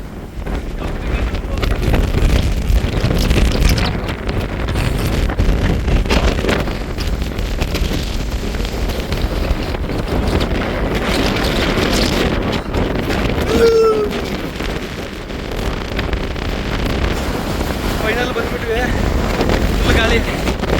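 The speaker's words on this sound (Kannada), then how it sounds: "ಗಾಳಿ" Strong wind buffeting the microphone outdoors, a loud, continuous low roar and rumble that persists throughout with slight surges, with faint voices now and then underneath.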